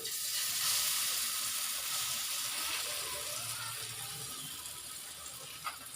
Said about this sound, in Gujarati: તેલ એડ કરવાનું, એના અંદર રાઈ નાખવાની છે